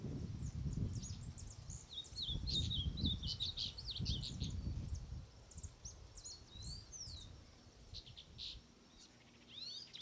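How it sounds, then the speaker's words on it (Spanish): Goldfinches perched in an anacahuita tree over a park, giving thin high chirps and twittering trills over faint low rustling and background hum, fairly quiet and at middle distance. "Los jilgueros se posan en la anacahuita como trampolín para tirarse al suelo del parque"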